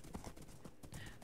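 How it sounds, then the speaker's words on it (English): Horse hooves clip-clop in the video game Minecraft, a quick run of close, hollow steps lasting just over a second. "there goes my horse"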